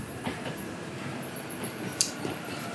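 A train in the game 13 Sentinels: Aegis Rim rolls past with a steady rumbling, rattling wash of wheels on track and one brief high metallic squeal, continuous and fairly close.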